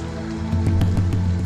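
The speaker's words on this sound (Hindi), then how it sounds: "इतनी बारिश हो रही है, कहाँ जाओगी?" Heavy monsoon rain falls steadily and close, a dense wash of drops running throughout with a few louder splashes and patters on a surface.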